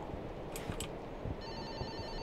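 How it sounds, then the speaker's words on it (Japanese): A small telephone in the horror game Fobia – St. Dinfna Hotel rings in a derelict hotel, two short bursts followed by a steady electronic trill over low rumbling ambience. "電話の音がするね。"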